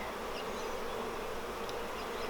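Dense, continuous buzzing of many honey bees swarming around hive frames of capped brood during an outdoor hive inspection, close and steady with no voices.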